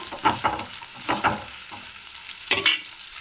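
Large onions frying in a pan for Chettinad onion tomato chutney, with bursts of scraping as a spatula stirs them in a few close strokes over a low sizzle.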